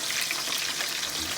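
Pompano fish frying in grease in a pan, a steady dense sizzle that stays even and close throughout, with no voices.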